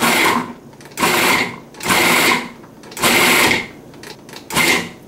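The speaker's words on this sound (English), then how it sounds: "I'm gonna just pulse these babies until they start to break down." A food processor pulses an entire can of garbanzo beans (chickpeas) for caramelized onion hummus: five loud, even motor bursts of about a second each, separated by short gaps, with no talking.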